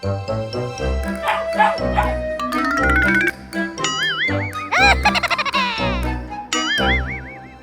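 A cartoonish dog barks and yips repeatedly during a hide-and-seek video game, amid bouncy, warbling game sound effects and chimes, loud and close throughout.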